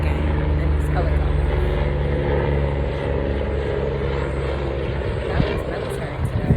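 A military helicopter passes overhead, its steady rotor and engine roar filling the whole stretch at moderate loudness, without talk over it.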